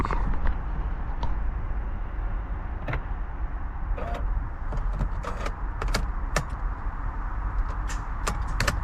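A van's starter motor clicks while it fails to crank, even though the battery is not very flat. Several sharp, separate clicks sound at irregular intervals over a faint, quiet background.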